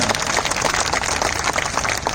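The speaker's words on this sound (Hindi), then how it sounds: "प्रभु ताली बजाइए प्रभु की महिमा के लिए जोर से" A congregation at a Hindi evangelistic church meeting claps hands loudly, a dense continuous burst of many people applauding together, close and filling the room.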